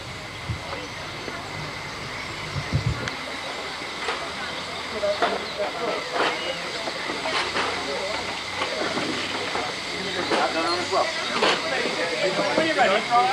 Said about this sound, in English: The beautiful A4 Seagull is seen here leaving the steaming bays to begin its